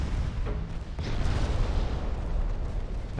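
Torpedo hits strike warships during a naval battle in Ultimate Admiral Dreadnoughts, a heavy muffled boom followed by a sustained rumbling roar that fills the moment.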